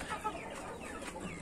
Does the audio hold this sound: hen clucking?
yes